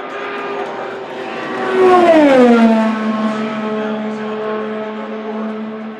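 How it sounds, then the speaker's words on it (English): Fernando Alonso's Indy 500 race car engine roars past at high revs, rising loud and then dropping in pitch as it sweeps by and fades into a steady distant drone. "And now Alonso warming up as he heads to the backstretch"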